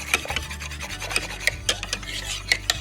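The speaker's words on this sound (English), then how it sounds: "So you're gonna whisk that in." A dough whisk scrapes and rasps steadily through floating sourdough starter and water in a bowl, making repeated close scratchy strokes with no talk.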